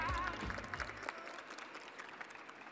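Brief burst of audience clapping that quickly fades into scattered, softer claps and room noise.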